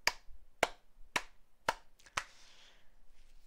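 Five sharp, separate hand claps land at an even, unhurried pace close to the listener, each one crisp and bright against a quiet background, with a faint room wash trailing the last.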